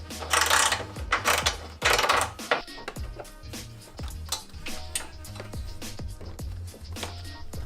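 Ratchet wrench loosening a headlight mounting bolt on a Honda S2000, giving a run of quick, close mechanical clicks in short bursts, with louder rustling handling noise at the start.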